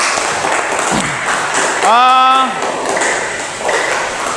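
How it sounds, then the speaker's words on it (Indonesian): A classroom of students in an Islamic religious education lesson claps together in a loud, steady patter, with a short sustained voiced tone rising over the middle of the applause. "Ya, tepuk tangan untuk kita semua ya."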